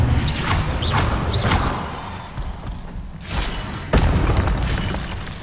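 Fiery spell blasts from a wizard's wand in Hogwarts Legacy, several whooshing bursts and booms in quick succession over busy combat noise, with a sharp impact near the end.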